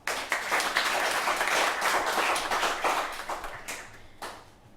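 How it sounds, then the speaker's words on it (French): A live audience at a summer talent competition applauds a dance group: a dense, steady wash of clapping with a few distinct sharp claps, thinning toward the end. "On les applaudit encore une fois."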